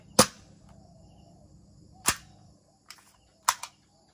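A Tokyo Marui SIG P226 gas airsoft pistol fires several sharp, snappy cracks at uneven intervals, each short and crisp over quiet room tone, with no talking.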